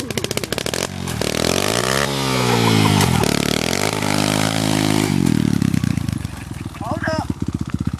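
Pit bike motorcycle engine sputtering to life, then revving hard in rising and falling surges before settling into a rapid popping idle, loud and close.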